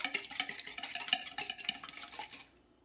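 A whisk beats ingredients in a bowl for cinnamon apple bread, a fast steady run of light metallic clicks and swishes, close and moderately loud, stopping abruptly near the end.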